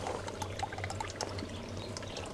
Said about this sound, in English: Just in case people were curious about whether I've got water flowing in my ponds.